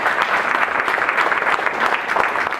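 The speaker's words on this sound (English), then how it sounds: "Please give a round of applause for Dr. Sass Moulavi." Loud, dense clapping from an audience at a weight loss seminar, continuous and close for the whole stretch with no speech over it.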